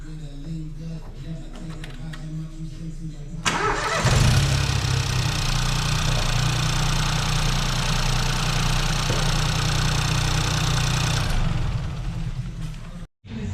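A Ford Fiesta 1.0 EcoBoost engine cranks and catches, then settles into a loud, steady close-up idle for several seconds before cutting off, after someone briefly speaks.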